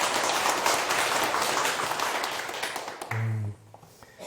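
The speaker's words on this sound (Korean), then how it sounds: "네네, 박수 한번 치세요." Audience clapping at a Buddhist dharma talk show, a dense steady patter for about three seconds that cuts off abruptly, followed by a short low tone and a quieter room.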